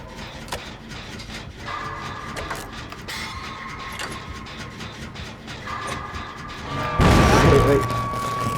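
Generator being repaired in Dead by Daylight, a continuous clattering, ratcheting mechanical churn with tonal hums, swelling into a loud burst near the end, while someone talks over it.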